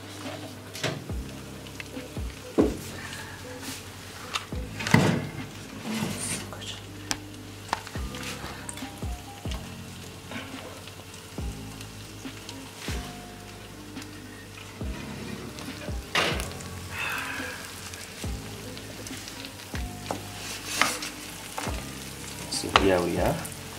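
Bacon fries in a pan with a busy sizzle and popping crackle, punctuated by clinks and scrapes of utensils against the pan, with brief voices in the background.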